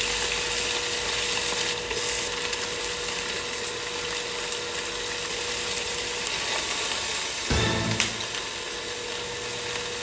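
Ginger sizzles steadily in a hot pan, a continuous bright frying hiss with a brief clatter of stirring near the end.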